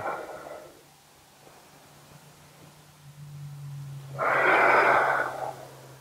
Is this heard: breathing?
yes